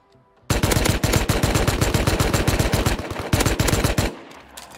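A long, loud burst of automatic gunfire in the game Rust, rapid shots hammering without pause for about three and a half seconds before cutting off, close and alone.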